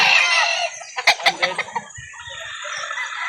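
A rooster at a chicken market in Calauan sounds off close by, with a run of quick, sharp clucks in the middle set between stretches of strained, drawn-out crowing.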